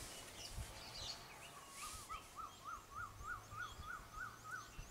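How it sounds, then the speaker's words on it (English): A small bird repeats a rhythmic series of rising-falling whistled calls, about a dozen evenly spaced notes, faint and moderately distant outdoors near an off-grid cabin, over a quiet background hiss. "Lots of little birds around right now."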